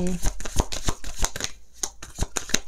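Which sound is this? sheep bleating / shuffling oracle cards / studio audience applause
shuffling oracle cards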